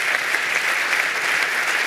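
Dense, even applause from the audience at a Vaud sports awards ceremony honoring the team of the year, a loud continuous wash of clapping throughout.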